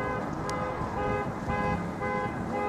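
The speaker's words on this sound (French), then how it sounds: "qui sonne, qui klaxonne là-bas" A car horn, set off by a remote key, honks repeatedly in short bursts from a distance, with a steady tonal alarm-like pattern over outdoor background noise.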